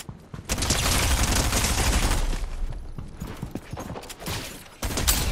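SMG and pump shotgun gunfire in a competitive shooter video game, a loud dense burst of rapid shots, then scattered sharper single blasts and a final shot, close and without talk.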